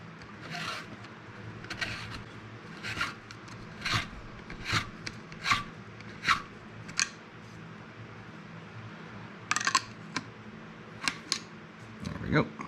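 A Neway hand cutter scrapes a 45-degree valve seat on a pitted, rusted KA24DE cylinder head from a 240SX, giving repeated short rasping strokes at a steady rhythm, close and moderate.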